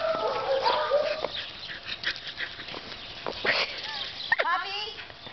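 A seven-week-old puppy whimpers and whines in short, uneven high cries, some quite close, between soft human voices talking to it.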